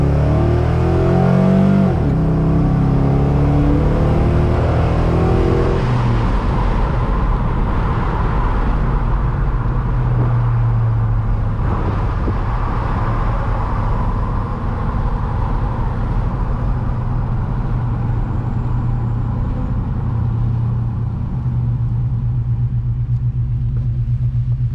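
A Chevrolet Silverado pickup with a swapped LQ4 V8 engine and a Texas Speed CHOPacabra cam, retuned, rumbling loudly and accelerating up through the revs, then settling into a steady, heavy drone close by.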